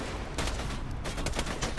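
Rapid assault rifle gunfire in Borderlands 2, a dense, continuous stream of shots over a noisy game mix, loud and close throughout.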